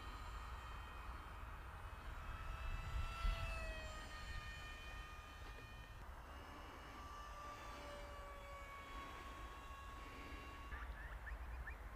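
A Mini Surfer 800 RC plane cruises at about a third throttle, its steady electric motor whine carried at a distance and rising and falling in pitch as it passes overhead, with no talk.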